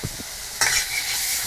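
Fish curry cooking in a pan, with a utensil stirring and scraping against it over a steady, close sizzle of frying, no voices.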